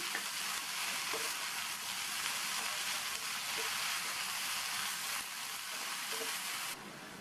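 Cauliflower with onion, turmeric and salt sizzling steadily in a pan, a constant close hiss of frying with faint stirring taps.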